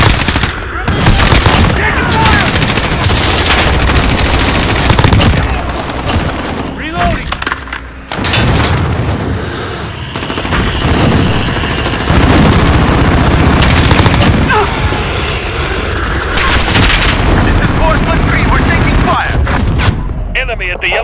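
Dense, loud automatic gunfire from an M4A1 and other weapons during a 10v10 team deathmatch on the Grazna Raid map in Call of Duty Modern Warfare, with rapid overlapping bursts and thuds nearly throughout and voices talking over the fighting.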